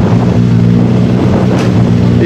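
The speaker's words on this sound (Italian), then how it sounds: "Il vento di Tiriolo" Wind buffets a microphone at a motorsport slalom event in Tiriolo, Italy, producing a loud, continuous low rumble and roar that stays unbroken across the whole stretch.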